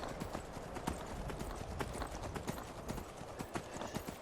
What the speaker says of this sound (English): I haven't ridden a horse for a long time in Skyrim,